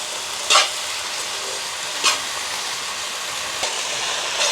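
Onion, potato, brinjal and chilli sautéing in a pan in a village kitchen make a steady, fairly loud hiss and sizzle, broken by a few sharp stirring scrapes; no talking.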